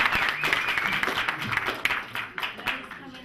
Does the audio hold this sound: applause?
yes